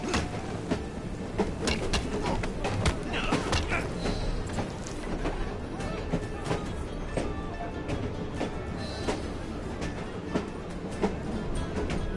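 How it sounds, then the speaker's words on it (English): A train in the video game Assassin's Creed Syndicate rumbles steadily with a continuous clatter and rattle, close and fairly loud throughout, with no talking. "At least we have a train now."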